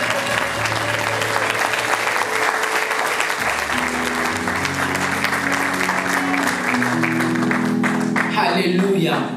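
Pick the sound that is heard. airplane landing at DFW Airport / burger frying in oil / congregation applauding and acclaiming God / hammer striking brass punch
congregation applauding and acclaiming God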